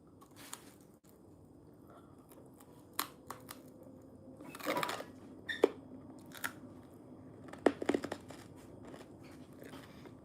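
Sharp crunching bites on something hard, a few scattered cracks and snaps over quiet room noise, close up.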